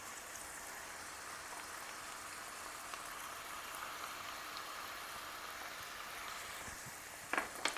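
Onions and garlic sautéing in a pan in a wood-fired oven kitchen, giving a steady, even sizzle like light rain that runs throughout, with a brief louder clatter near the end.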